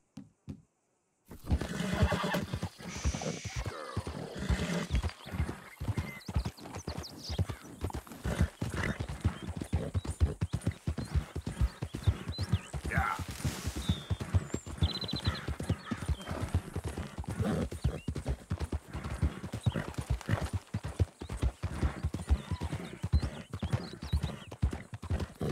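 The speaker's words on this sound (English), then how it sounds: "My horse is tired." Steady, rapid hoofbeats of a galloping horse in the video game Red Dead Redemption 2 continue throughout, with occasional neighs and whinnies rising over the rhythmic clip-clop.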